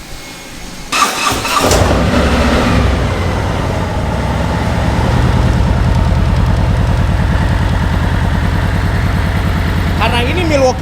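A Harley-Davidson Milwaukee 8 motorcycle engine with an aftermarket exhaust cranks and catches, then settles into a steady, mellow, loping idle that stays close and loud throughout.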